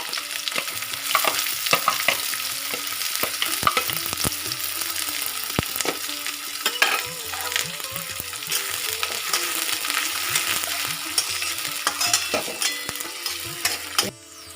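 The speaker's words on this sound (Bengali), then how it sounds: "পেঁয়াজটা একটু লাল হয়ে ভাজা হোক" Chopped onions fry in a pan for a soybean curry, with a steady sizzle and repeated scraping strokes of a stirring spoon, close and clear with no talk.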